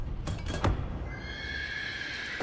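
A horse in the racing game The Crew Motorfest lets out a loud, close whinny, a quick rising squeal that trails off over about a second, with a brief hoof clatter and a faint mechanical hum beneath.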